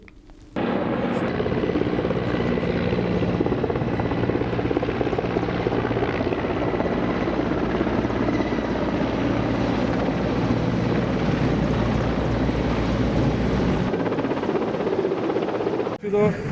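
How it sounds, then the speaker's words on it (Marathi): A landing helicopter roars loudly and steadily up close, rotor thump and engine whine filling the scene, with voices faintly underneath before the noise suddenly drops. "यांचं हेलिकॉप्टर लँड झालं"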